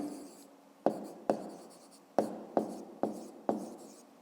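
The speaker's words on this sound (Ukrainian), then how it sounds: "Отже, записуємо тоді відповідь." Pen writing an answer to a fifth-grade maths exercise on paper, six sharp taps of strokes in an uneven rhythm, close and fairly quiet, with no talking.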